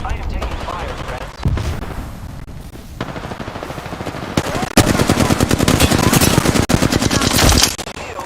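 Sustained machine gun fire in the Apex Legends video game, long loud rapid bursts with brief pauses between them, close and dense, with voice chatter mixed in.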